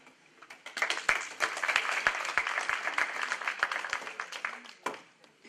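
Conference audience in a Malian cultural setting bursts into sustained applause, dense hand clapping rising quickly and holding steady for several seconds before tapering off, with a few voices mixed in.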